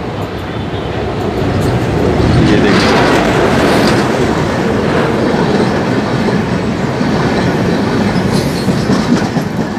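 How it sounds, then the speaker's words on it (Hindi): The Kamayani Express, a passenger train running from Gorakhpur to Mumbai, rolls past near Budhni village, its coaches producing a loud, continuous rumble and clatter of wheels on track that holds steady for the full stretch. "और देखिए एक ट्रेन आ रही है, आपको एक ट्रेन का दृश्य दिखाएँगे।"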